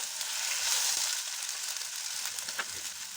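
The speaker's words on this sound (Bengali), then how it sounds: "দিয়ে দিলাম আদা বাটা আদাটা একটু ভাজা ভাজা হোক" Steady, loud sizzling of paste frying in hot oil, a continuous crackling hiss with a few sharper pops; no voices.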